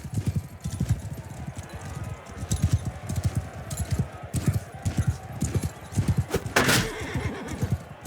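Horses gallop with rapid, steady clip-clop hoofbeats in the Mount & Blade II: Bannerlord video game, with a neigh partway through, over a busy battle soundscape; light speech may be present underneath.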